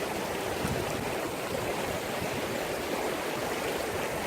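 Continuous loud rush of a fast-flowing, swollen river near Red Castle, dense and unbroken broadband roar close by with no talking over it.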